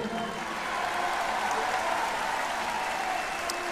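Steady, sustained clapping from a large concert audience at Teatro Metropólitan, a dense wash of applause holding at an even level throughout.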